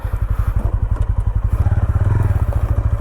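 A TVS Ronin Agonda Edition motorcycle engine thumps steadily at low pitch while riding, a fast regular pulse that stays loud and close throughout.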